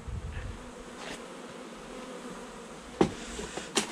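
Honeybees hum and buzz in a steady, close drone during a beehive inspection with the honey super lifted off, with a couple of sharp wooden knocks and clicks near the end and no talking.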